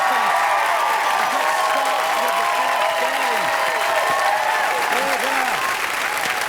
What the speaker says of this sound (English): Well, I could certainly listen to your applause all night